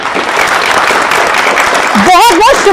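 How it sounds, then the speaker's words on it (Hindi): Loud studio-audience applause on a Hindi news debate set, dense and steady throughout, with a voice speaking over it near the end. "जोरदार तालियों के साथ।"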